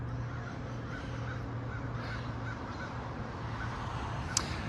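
Crows caw faintly in the distance over steady outdoor ambience on a nature walk, with a steady low hum beneath and one brief sharp call near the end.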